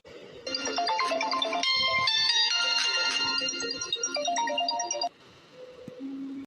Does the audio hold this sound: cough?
no